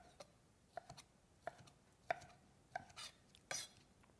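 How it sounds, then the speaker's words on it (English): A kitchen knife chops leftover ham into small cubes on a board, with about half a dozen crisp, evenly spaced strikes, faint and close, and no talking. "And then I'm going to cut it into little cubes for the bean soup first."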